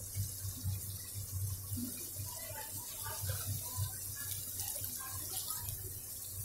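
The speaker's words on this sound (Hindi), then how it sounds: "आधा कप के करीब हमने इसमें पानी डाला है।" About half a cup of water runs steadily into a pan of chicken korma, a soft continuous pouring hiss with faint bubbling, close by and moderately quiet.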